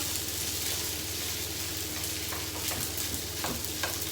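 Fried rice sizzles and crackles steadily on a home hibachi griddle, with a few scrapes and taps of a spatula stirring it, close and moderately loud, no talking.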